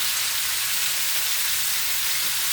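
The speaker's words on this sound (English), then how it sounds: "Hear that sizzle?" Steady crackling sizzle of pork frying in a pan, a constant hiss close up with no talking.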